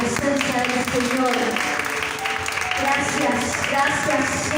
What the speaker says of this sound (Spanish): un fuerte aplauso a la presencia del Señor